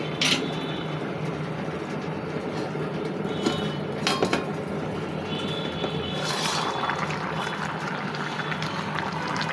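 A lid is lifted off a pot of dried fish (shutki) curry with potatoes and cauliflower stems, giving a couple of sharp metallic clinks over a steady background hiss of simmering.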